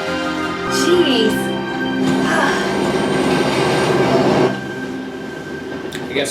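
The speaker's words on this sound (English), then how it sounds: "I guess the train working now." A train in a TV show runs along the rails with a steady rumble, wheel squeal and rising hiss, loud and close, while people talk over it.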